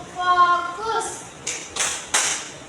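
Three sharp hand claps of a children's focus clapping game in an Indonesian classroom, evenly spaced and fairly loud, following a brief sung or chanted voice.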